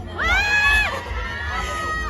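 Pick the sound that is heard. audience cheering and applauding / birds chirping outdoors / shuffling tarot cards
audience cheering and applauding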